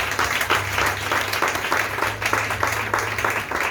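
A church congregation breaks into steady, dense applause during a French-language sermon, the clapping loud and continuous throughout with a low hum underneath.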